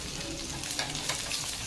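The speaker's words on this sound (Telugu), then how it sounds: "మూకుడులో ఆయిల్ వేసుకుని పోపు దినుసులన్నీ వేసి వేయించుకోవాలి" Mustard seeds, dried red chillies, crushed garlic and grated ginger tempering in hot oil in a pan, giving a steady close sizzle and crackle with a few sharper pops, no voices.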